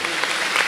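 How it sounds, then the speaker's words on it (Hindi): An audience at a Hindi religious discourse breaks into a brief burst of dense, steady clapping. "एक बार और उनके परिवार को ताली बजा के बधाइयाँ।"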